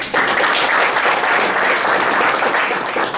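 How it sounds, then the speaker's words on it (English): Members at a Batesville Rotary Club meeting give a loud, close round of applause, a continuous wash of many hands clapping without pause. "Let's give Butch a round of applause."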